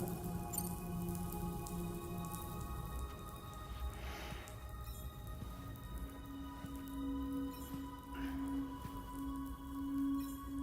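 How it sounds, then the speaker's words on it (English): Rain falls steadily in the video game Death Stranding 2 as a soft, continuous patter with a few louder splashes, under a low hum and faint tonal ambience. "Those raindrops are falling on my head, they keep falling."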